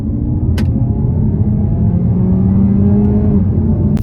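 An Opel Astra's 1.6 four-cylinder engine with an eight-speed gearbox, heard from inside the car after a paddle downshift to second, gives a loud, steady low drone with a faint rising tone and no talking.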